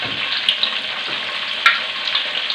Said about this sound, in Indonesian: Terusnya saya mau goreng sahabatku ya rempahnya ini.